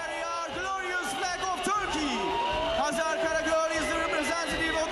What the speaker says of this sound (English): now you're going to hear the biggest cheer of the night